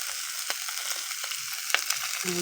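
Soft, continuous sizzle of fermented fish and fermented shrimp frying together in a pan, with scattered small pops and crackles over a gentle hiss, fairly quiet and without talk.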